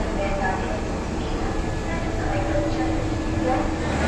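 The 22323 Shabd Bhedi Express running from Kolkata toward Varanasi, heard from inside the coach as a constant loud rumble and rattle of wheels and carriage with faint squeals, and a voice speaking over it.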